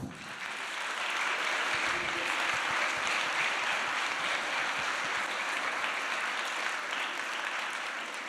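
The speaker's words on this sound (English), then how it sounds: "Je vous demande d'applaudir la cofondatrice de Great Bubble Barrier" A conference audience applauds steadily for the co-founder of Great Bubble Barrier at a UNESCO campus event on climate change, with continuous dense clapping that swells in and stays even for several seconds.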